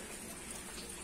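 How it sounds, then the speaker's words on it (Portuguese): Light rain falls over Paraná, Brazil, filling a water tank: a soft, steady hiss of drops with no voices, quiet and even throughout. "Chuvinha abençoada, gente, aqui no nosso Paraná"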